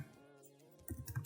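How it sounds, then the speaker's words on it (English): Quiet keys tap on a computer keyboard for a moment, with a few louder clicks near the end as a command is typed into a command prompt. "From here I'm typing CODE space dot and press enter."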